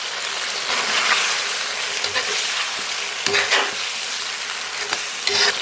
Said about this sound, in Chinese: 小火给它炒出红油， 然后把切好的豆腐给它下里边